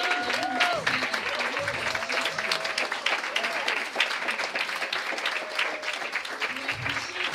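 Crowd applause for the speakers at an International Women's Day celebration, sustained clapping throughout with scattered cheers and voices mixed in, moderately loud and continuous.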